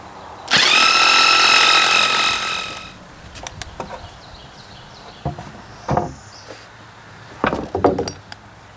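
An impact driver fires in one loud, sustained rattling burst of about two seconds as it drives bolts into ledger plates. Scattered metallic clinks and knocks follow, close by.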